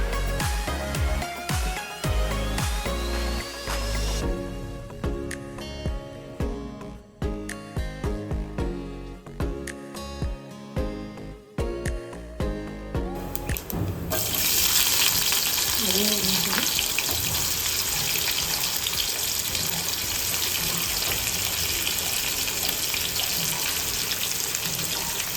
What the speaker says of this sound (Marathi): तर इथे आपण पॅन ठेवलेला आहे, पॅन मध्ये आपल्याला टाकायचं आहे तेल। तर आता आपण तेल टाकून घेऊया।